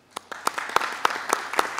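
Rhythmic hand clapping from a small group at a council meeting, celebrating a birthday, with sharp, evenly spaced claps close by for a brief moment.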